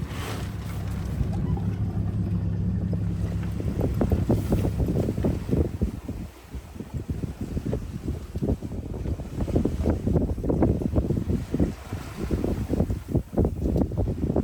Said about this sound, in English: The Code Zero performed beautifully, silently whisking Arabella along in an 8-knot breeze.